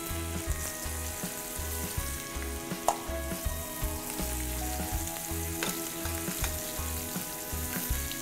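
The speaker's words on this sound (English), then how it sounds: "in extra virgin olive oil, caramelize it a little bit, brown them" Thin slices of veal brown in extra virgin olive oil in a sauté pan, a constant close sizzle with a faint steady hum and a few light clinks of a utensil, no speech.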